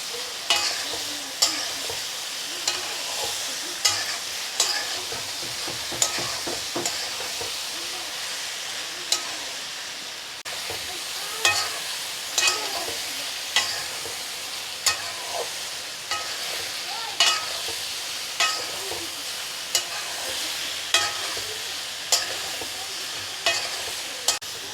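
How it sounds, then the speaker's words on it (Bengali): Vegetarian dhoka frying in a pan: a steady close sizzle broken by regular scraping strokes of a spatula stirring the pieces, with no voices. "আমি এখন এগুলো আরও 2 মিনিট ভেজে নেব"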